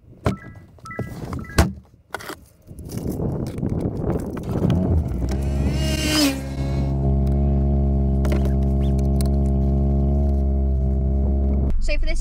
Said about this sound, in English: let's have a little listen to the exhaust